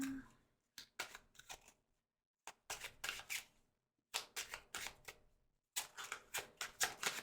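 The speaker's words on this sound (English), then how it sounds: "Aggressive shuffling." Tarot cards are shuffled aggressively up close in rapid riffling bursts, each a quick flurry of crisp flicks broken by short silent gaps, with no talk over it.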